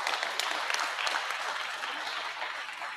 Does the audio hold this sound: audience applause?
yes